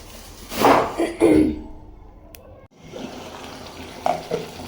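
Meat sizzling and frying in a pan with ginger and garlic, loud stirring bursts up front, then a quieter steady sizzle with another scrape later, close by, with a voice and a throat clear.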